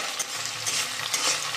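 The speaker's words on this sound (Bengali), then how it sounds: "একটু ভেজে নিই।" Food sizzles steadily in a hot pan with a broad, even hiss, broken by a few soft stirring scrapes and no voices.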